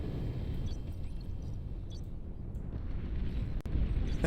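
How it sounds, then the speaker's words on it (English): A nuke launches in the strategy game Beyond All Reason as a steady, deep rumbling roar that holds for several seconds, with a sharp crack near the end and a heavier surge just after it. "Away goes the nuke."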